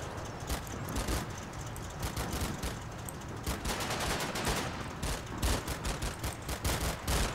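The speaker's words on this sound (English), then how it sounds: "MG started shooting at him." An MG42 machine gun fires in Combat Mission: Final Blitzkrieg, with rapid, crackling bursts stacked in quick rhythmic volleys over a rumbling battlefield background, moderately distant.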